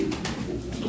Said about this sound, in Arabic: بتلاقيه بيقعد يلف ويزوم كده